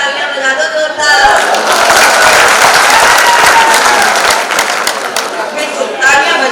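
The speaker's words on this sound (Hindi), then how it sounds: "एक बार तालियां बजा दो जोरदार" A crowd at a Hindi comic poetry gathering bursts into loud, sustained applause with scattered chatter and chuckles, swelling after a short pause and fading as a voice returns near the end.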